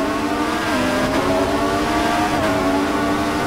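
Racing car engine in the F1 2014 video game, a steady, loud, high-revving drone with slight pitch wobbles as the throttle eases off.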